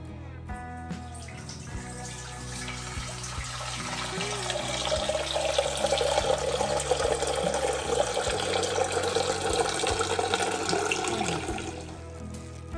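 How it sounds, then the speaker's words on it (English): Two liters of filtered water pour into a cooking pot for borscht, a close, continuous gushing stream whose tone rises and fills out as the pot fills, with no one speaking. "For the borscht, we take a pot, pour 2 liters water from the filter."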